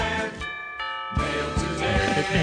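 A doorbell rings a two-note ding-dong, loud and close, with the chime tones ringing out clearly, then a longer ringing tone follows, over busy background music.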